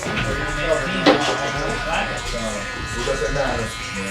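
Electric hair clippers with the guard removed buzz steadily while cutting hair during a fade haircut, a close continuous hum with a voice talking over it.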